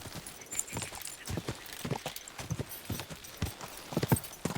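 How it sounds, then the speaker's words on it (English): Horse hooves clip-clopping at a quick pace in Kingdom Come: Deliverance 2, a steady string of close, fairly loud thuds running through the whole stretch with no talk. "We got a horse."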